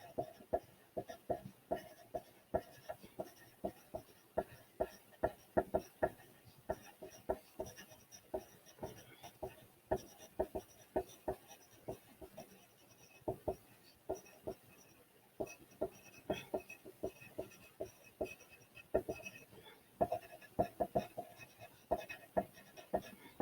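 Pencil strokes on paper as a T chart is filled in, quiet, close scratches coming in irregular bursts of short strokes with brief pauses between, no one speaking.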